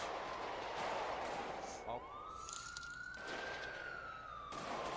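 A police siren wails in the GTA V video game during a roleplay chase. Its tone sweeps and holds at mid-distance, with a player talking over it.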